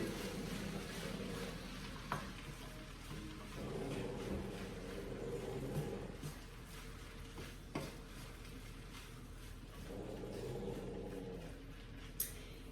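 A cowboy meal cooking in a skillet over medium heat, giving a steady low sizzle throughout, with occasional sharp clinks and scrapes of a utensil against the pan.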